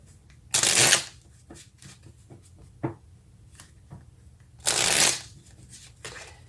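Tarot cards are shuffled in two loud riffling bursts, several seconds apart, with softer card taps and handling sounds between them, close up and with no talking.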